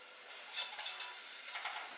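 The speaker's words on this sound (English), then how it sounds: "pan down there, sizzling away" Food sizzles and crackles in a hot pan, with light spitting pops and a soft scrape or two, close up with no talking.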